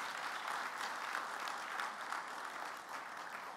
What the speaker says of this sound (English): Won't you all give Professor Marwala another round of applause,